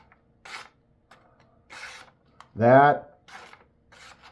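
A pocket knife, used and of unknown sharpening, slicing through a sheet of paper in an edge test, giving short dry rasping strokes and one louder, longer drawn cut near the middle, with a brief word spoken early on.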